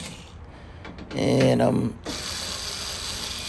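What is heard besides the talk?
electric screwdriver with Phillips bit removing dryer lid screws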